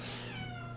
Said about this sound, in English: If you heard him, he was meowing.